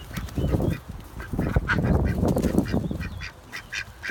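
Backyard ducks quack and honk nearby in short irregular bursts, several calls overlapping, while a tornado watch hangs over the yard.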